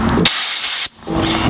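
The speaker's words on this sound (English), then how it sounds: "You can about take an air hose," Compressed air hose blasting dust from a riding mower's air filter on an Exmark Metro 48-inch mower: loud, close hissing bursts, one short puff then a long blast, a brief gap, then the hiss resumes.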